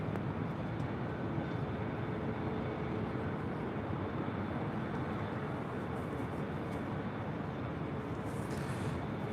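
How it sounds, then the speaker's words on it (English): A Delta Boeing 737-900ER jet departs on runway 24 left at LAX, its engines producing a steady, loud, broadband roar that holds at a constant level without pause. "Delta Airlines Flight 5453 heading to Nashville, Tennessee. It's the 737-900ER."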